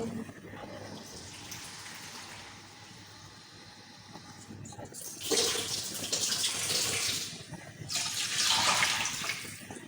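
Water poured from a tap or jug into a cooking pot for chicken mandi rice flavoured with cardamom and fennel, two loud rushing bursts after a quieter start.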